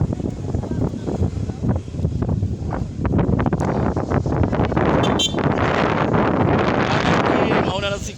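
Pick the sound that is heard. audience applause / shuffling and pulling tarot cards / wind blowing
wind blowing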